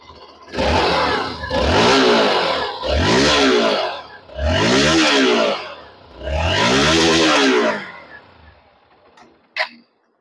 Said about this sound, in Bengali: এবার আমি একবার ইঞ্জিন আর এক্সস্টের সাউন্ড আপনাদের শুনিয়ে দিচ্ছি।